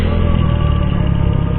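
A Honda Click 125i scooter idles loudly and close through an aftermarket X6 exhaust, a deep, steady, throbbing rumble with no voices.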